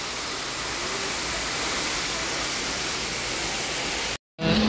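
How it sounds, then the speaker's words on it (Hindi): An indoor waterfall in a shopping mall gives a steady, loud rush of falling water that holds unbroken, then cuts out briefly near the end before returning. "ये देखें कितना प्यारा वाटरफॉल है यहाँ पे"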